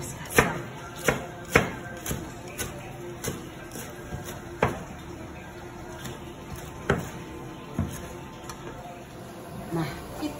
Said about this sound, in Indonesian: Si kemanginya juga kita iris kasar ya guys ya.